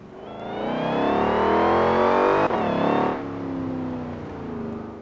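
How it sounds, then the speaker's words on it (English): Ford Mustang engine in Forza Horizon 4 revving hard and climbing in pitch, briefly dropping at a gear change, then rising again before easing off; loud and close with no talking. "That was the kind of noise I was expecting from that Mustang."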